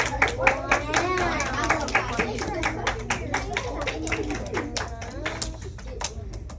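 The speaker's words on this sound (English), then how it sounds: "Round of applause." A class of young children gives a round of applause in a school classroom, uneven, distinct hand claps over several seconds, mixed with children's excited voices and chatter.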